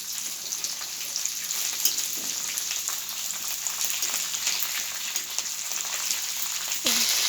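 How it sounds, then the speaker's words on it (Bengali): Dried fish frying in oil with chopped onions, a dense steady sizzle close up, with faint stirring and one louder knock near the end; no talking. "এবার শুটকি মাছগুলি ভেজে নেব"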